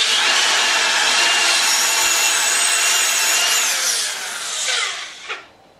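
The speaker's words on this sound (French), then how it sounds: "Voici ce qu'une toupie donne comme son." A wood router spindle on a Shapeoko 5 CNC whines steadily and loudly with no one talking, then spins down and falls quiet near the end.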